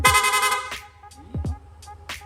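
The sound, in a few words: motorcycle rapid horn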